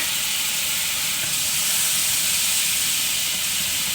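Minced garlic sizzles in melted butter in a pan, a steady, loud, even hiss that carries on without pause.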